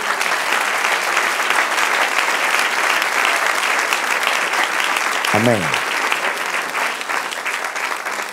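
A church congregation applauds steadily in a dense, even wash of clapping that holds throughout, with a brief spoken word from the pulpit partway through.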